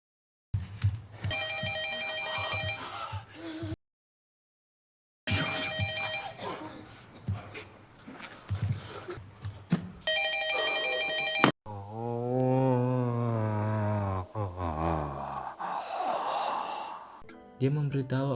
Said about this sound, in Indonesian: terdengarlah suara telepon rumah.